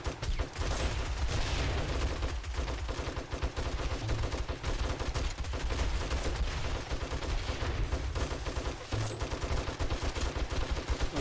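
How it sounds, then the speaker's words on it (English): Rockets blow up zombies at a winter base in the video game 7 Days to Die, a dense, loud barrage of overlapping explosions and rapid gunfire with no pauses. "Those rockets are blowing zombies up onto the top of the base."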